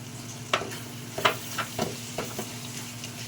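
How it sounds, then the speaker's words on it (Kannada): Tamarind juice gravy for vangibath simmering in a pan, with a steady low bubbling hiss broken by several soft stirring scrapes and pops, close and fairly quiet, with no voices. "ಹುಣಸೆ ರಸ ಚೆನ್ನಾಗಿ ಕುದಿಬೇಕು."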